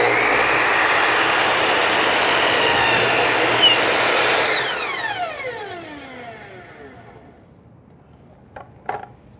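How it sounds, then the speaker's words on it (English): A power saw cutting a piece of crown molding trim laid flat: a loud, sustained whine for about four seconds, then the blade spins down in a falling pitch and fades, ending in a couple of faint knocks. "When I cut this piece of trim, because it's laying flat, watch what happens to this piece."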